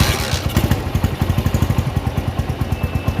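An old factory-original motorcycle engine starting up and running with a loud, steady thumping putter, close by, with no talk over it.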